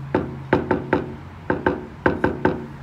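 Knuckles rapping on a house door in three quick groups, two, two and three knocks, each knock crisp, close and loud, with quiet pauses between groups.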